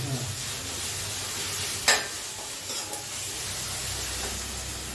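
Chicken curry stirred in a pan over a high flame, a steady close sizzle and hiss with a sharp scrape of the spoon partway through.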